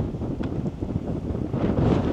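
Strong wind on Sabtang Island in Batanes roars steadily into the microphone, a continuous rumbling buffet that swells slightly toward the end.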